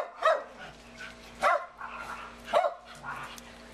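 Dogs barking at each other over a backyard fence, an adult dog next door trading barks with the home dog while puppies stay out of it. Three sharp, fairly close barks are spaced roughly a second apart, with quieter yips between them.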